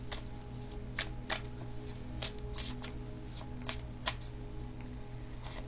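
Tarot cards being shuffled and drawn during a love reading, a steady soft riffling patter with a few sharper slaps and snaps, close and fairly quiet over a low hum, with no talking.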